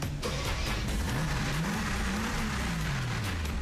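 A Mercedes-Benz G-Wagon AMG engine fires up with a deep rumble that rises and swells in a rev before easing back, loud and close.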